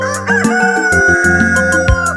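A rooster crows loudly and close by, one long drawn-out cock-a-doodle-doo that fills the whole moment with no talking.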